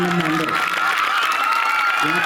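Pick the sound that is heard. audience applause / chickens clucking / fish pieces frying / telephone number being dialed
audience applause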